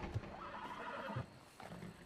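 In Red Dead Redemption 2, a horse at a stable gives a fairly faint whinny and snorts, along with a couple of soft hoof thuds and some quiet background ambience.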